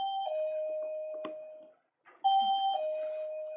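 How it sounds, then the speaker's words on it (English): A doorbell at a Japanese printmaking studio chimes in two separate ringing sequences, each a clear, moderately quiet electronic tone pattern with a short silent gap between them. "The bell's going to ring a bit."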